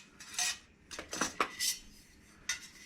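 Metal parts of a gasifying twig camp stove being fitted together, producing a handful of short, light metallic clinks and scrapes close by, spaced irregularly over a few seconds, with no talking.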